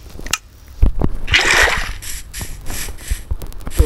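Water poured from a bucket in Minecraft, a short loud splash and slosh near the start followed by softer gurgling and small block-placing clicks, with no talk.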